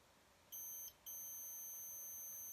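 A multimeter on continuity test beeps while probing pads on an iPhone 6 Plus logic board during touch IC repair: two steady high-pitched tones, a short one and then a longer held one, clear in a quiet room.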